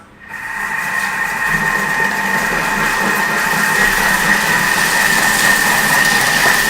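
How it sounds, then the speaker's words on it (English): A Thermomix runs at speed 4 with a whisk, giving a loud steady motor whir with a sustained tonal hum that rises quickly at the start and holds constant throughout. "if you're using a Thermomix, you never want to go over speed 4."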